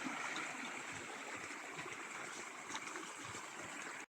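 A blue river flows steadily near Kabardinka on the Black Sea coast, a continuous broad rushing of water heard close by with no talking.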